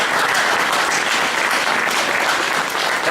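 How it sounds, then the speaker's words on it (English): A meeting crowd claps in steady, dense applause, loud and sustained for a few seconds with no talking over it. "Give yourselves a round of applause."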